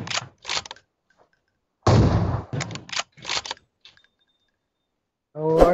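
Gunfire in the video game PUBG Mobile: several sharp bursts separated by gaps, some longer clattering volleys, ending with a tonal mechanical whine, close and loud.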